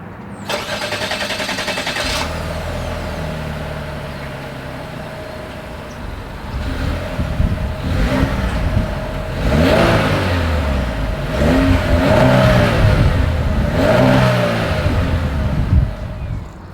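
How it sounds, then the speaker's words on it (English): A 2023 Chevrolet Malibu RS starts with a sharp burst of exhaust, settles into a steady idle, then revs up and down several times in loud, close, repeated swells with no talking. "here is that exhaust clip."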